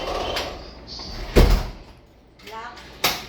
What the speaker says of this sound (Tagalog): Ay, sarado natin yung pinto.